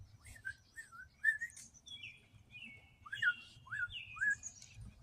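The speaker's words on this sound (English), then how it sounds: "I like that other bird's whistle." A bird whistles a series of sliding, chirpy notes in quick phrases, fairly close, over a faint low rumble.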